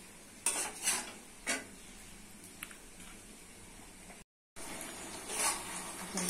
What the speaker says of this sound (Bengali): দিচ্ছি সবজি কুচানো, সবজির সাথে মশলার সাথে ভালো করে কষিয়ে নিতে হবে